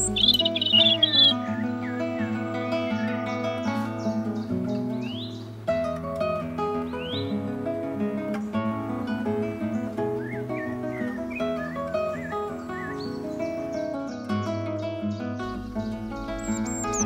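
A robin and other garden birds sing in short, high chirps and trills, scattered across the recording and faint beneath louder, steady music.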